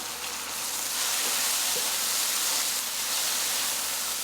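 Bacon frying in a hot pan for potato soup, a steady loud sizzle with a hissing, crackling texture that swells slightly and holds throughout.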